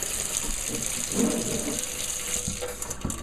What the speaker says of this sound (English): you always want to rinse your fruits off very well